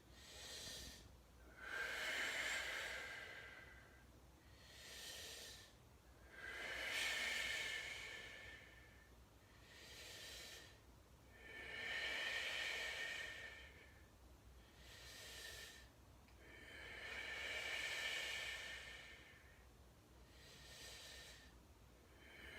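Slow, deep breathing during a hip and hamstring stretch, about five long airy exhales rising and falling in a calm, even rhythm, close to the microphone and otherwise quiet.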